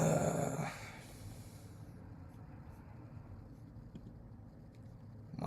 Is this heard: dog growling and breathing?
yes